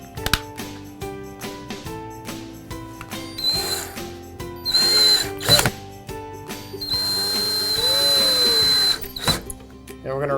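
A power drill drives number 6, 5/8-inch flathead screws into the cover plate of a Carrom foosball table, in several short whirring bursts of rising pitch, close by, with clicks and handling between.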